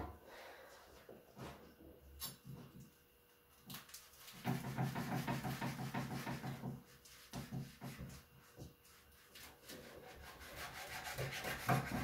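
A knife cuts through a homemade Mexican-style tortilla on a plate, making soft, rough sawing and rubbing strokes close by, quiet at first and then more continuous and scratchy, with no talking.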